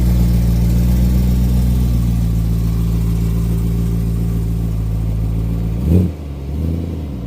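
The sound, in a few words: Vortech supercharged BMW M3 engine idling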